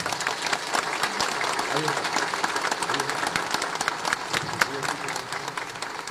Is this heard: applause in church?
yes